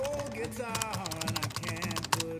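Rapid clicking keystrokes on a wireless computer keyboard whose battery is running low, tapping steadily and close under background voices, with a sharper key strike near the end.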